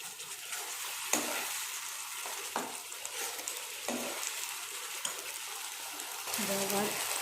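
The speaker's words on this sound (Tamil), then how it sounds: "கீரை வச்ச பச்சை மிளகாய் நல்லா கொஞ்சம் லைட்டாக ஒரு 5 நிமிஷம் நல்லா வதங்கணும்" Green chilies frying in hot oil in a pan for a squid gravy, a continuous moderate sizzle broken by several scraping stirs and spoon knocks, close by, with a voice talking faintly at times.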